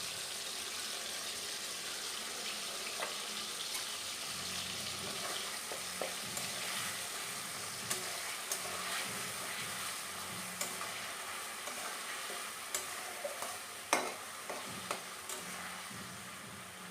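Onion, garlic and ginger frying in a pan, a steady close sizzle with scattered pops and crackles plus a few sharper clicks of stirring near the end, no talk.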